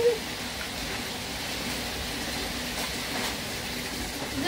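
Steady broadband hiss of rain falling outdoors, constant and moderately loud throughout with no distinct drops standing out, no talk over it.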